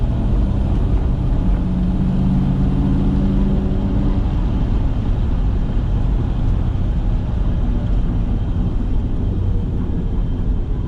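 A 1965 Chevrolet Biscayne drives along a city street in Tacoma, its engine a steady, continuous low rumble mixed with road and wind noise, loud and close from inside the car, with no voices.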